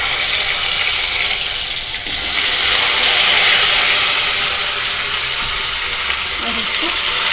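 Chopped taro (arbi) sizzles steadily in hot mustard oil with cumin, a loud, continuous hiss and crackle of frying that holds evenly throughout.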